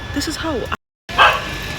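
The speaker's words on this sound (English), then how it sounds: "This dog is pissing me off." A dog barks in short yips and woofs close by, with someone talking over it; the sound cuts out briefly, then a sharper bark follows.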